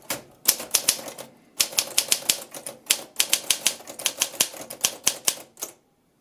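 Olympia typewriter keys clacking in quick bursts with brief pauses between runs, close and crisp, with no talking.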